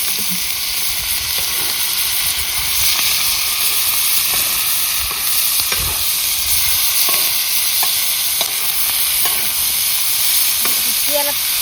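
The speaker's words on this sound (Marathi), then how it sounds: "आता आईने परतलाय आता तेलात तळायचं त्याला" An onion mixture fries loudly in oil in a pan with a dense, continuous close sizzle. Faint scrapes of stirring sound now and then, and there is no talk.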